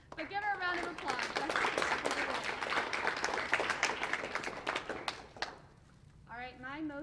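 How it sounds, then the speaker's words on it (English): An audience at an elementary school winter sports awards claps for several seconds, a busy patter of hands at moderate distance that fades out, with a voice speaking briefly at the start and again at the end. "But give her a round of applause."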